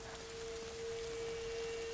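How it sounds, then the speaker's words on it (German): Steady rain falling in the video game A Plague Tale: Innocence, a continuous broadband hiss of drops on surfaces with an even, unbroken texture and a faint sustained tone running beneath it, with no speech. "Gerade eben hat es noch nicht geregnet."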